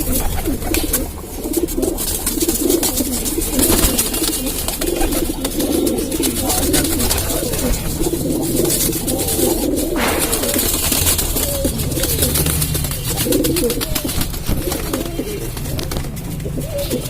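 A flock of pigeons at a Lucknow keeper's home, where pigeons have been kept since 1963, coos in a dense, continuous murmur, close and loud throughout.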